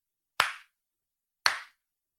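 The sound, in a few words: a person clapping hands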